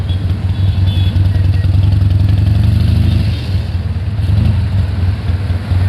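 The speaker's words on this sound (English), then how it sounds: "Sounds beautiful. That's how a Harley-Davidson should sound like." Pre-owned Harley-Davidson Sportster 1200 Custom motorcycle engine running steadily at a stoplight, a loud, deep low rumble that holds throughout with slight surges, heard up close with no talk.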